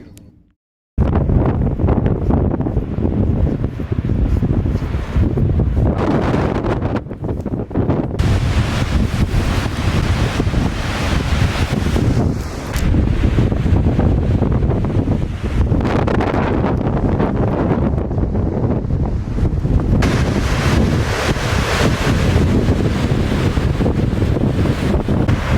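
Loud ocean waves and strong wind right beside a parked van on a cold coast, a continuous heavy roar of surf and gusts buffeting the microphone after a short quiet start, with no talking.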